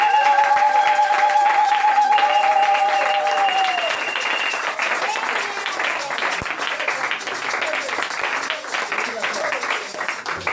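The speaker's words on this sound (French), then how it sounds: "Je veux qu'on se lève, on acclame une bonne acclamation." A church congregation erupts in loud cheering and applause, a dense wash of clapping and shouting that stays strong throughout, with a sustained voice or tone ringing out at the start.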